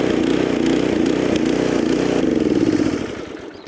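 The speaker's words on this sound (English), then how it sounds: "give it one good pull. Pop the choke off, give it a little bit more throttle." A WEIBANG Intrepid 384RB petrol scarifier engine runs steadily after starting, a loud, close, even mechanical drone with rattling clatter that tapers off slightly at the end, with no voices.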